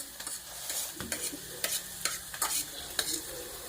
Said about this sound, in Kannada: ಫ್ರೈ ಮಾಡ್ತಾ ಇದ್ದೀನಿ